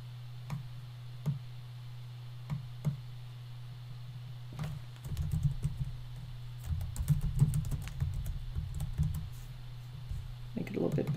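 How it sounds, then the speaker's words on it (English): Keys on a computer keyboard tap out a short word, starting as scattered single clicks and then turning into a quicker burst of typing over a steady low hum, close and fairly soft. "I'm going to go under text, and I'm going to just type in subscribe here."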